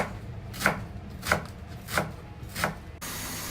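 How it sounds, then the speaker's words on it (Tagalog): A knife cuts cabbage into strips on a board: four evenly spaced, crisp chops about two-thirds of a second apart, close and clear, with no talking. "cut some cabbage into strips"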